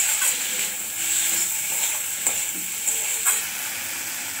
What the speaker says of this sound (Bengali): রসুন বাটা 1 চামচ আর 1/2 চামচ আদা বাটা দিয়ে ভালো করে 1 মিনিট কষাবো।